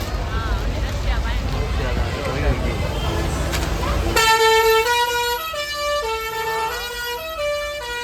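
A vehicle horn plays a melodic tune of distinct sustained notes during a Rathyatra procession in Bhavnagar, following a stretch of crowd noise and a siren-like wail, loud and near.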